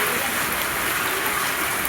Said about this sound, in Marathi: पाऊस तर भयानकच येत आहे.